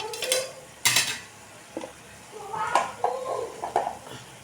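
Okra (bhindi) sautéing in a pan sizzles softly under repeated scraping and clinking of a spatula against the metal, with sharp knocks and stirring strokes at an uneven pace, close by.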